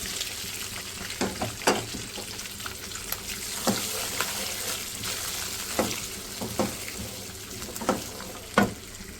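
Spices frying in a pan for a green masala keema with peas, giving a continuous sizzle with intermittent stirring clinks and scrapes, close up and without speech.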